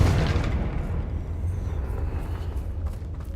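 Confringo fire spell exploding in Hogwarts Legacy, a loud low rumbling blast that fills the whole stretch and slowly fades, with no voices over it.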